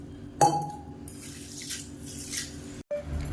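Whole black urad dal lentils are rinsed in water in a kitchen, with a splash at the start, then sloshing, trickling and light clinks of the grains and vessel, close by and without speech.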